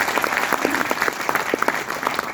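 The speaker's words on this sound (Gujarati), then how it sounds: "એકવાર ઉમેશભાઈ માટે જોરદાર તાળી." A crowd at a stage event claps steadily, a brisk, dense burst of applause close and loud throughout.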